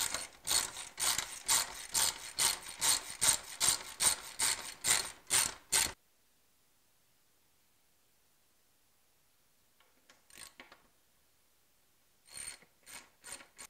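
Ratchet clicking rapidly in a steady burst for about six seconds as swing arm bolts on a Highlander are loosened, then silence and a few short, quieter bursts of ratcheting later on, close and clear with no talk.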